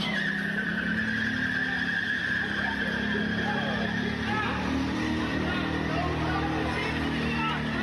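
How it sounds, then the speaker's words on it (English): A car skids and slams into the wall of a hospital emergency room in Austin, Texas: a sustained, noisy rush of tire scrub and engine with harsh grinding, heard at a distance along with background murmur and voices. "This is what it sounded like as the vehicle slammed into a wall."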